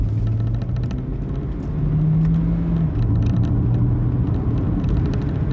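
A Hyundai Ioniq driven in sport mode in fourth gear, heard from inside the cabin as a loud, steady low engine drone and road rumble whose pitch rises slightly and then levels off.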